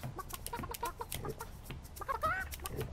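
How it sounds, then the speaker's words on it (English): Chickens cluck in the video game Burly Men At Sea: rapid, repeated short clucks, fairly faint, with a brief higher squawk near the end. "Chicken."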